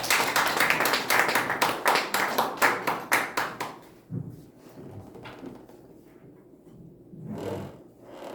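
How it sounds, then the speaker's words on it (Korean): A church congregation at a June worship service applauds a pastor, a burst of close rhythmic clapping lasting about four seconds that fades out, leaving quiet room noise with faint shuffling and murmurs. "나오셔도 여러분 박수로 환영해 주세요."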